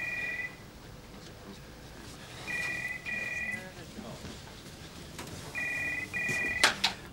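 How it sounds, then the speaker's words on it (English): A telephone rings in three double bursts of electronic trilling, with soft background activity and a brief clatter near the end. "Phone's ringing."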